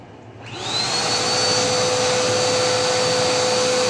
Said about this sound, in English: on to vacuuming my couch and my living room